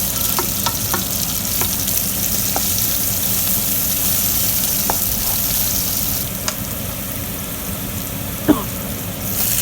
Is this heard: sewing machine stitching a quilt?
no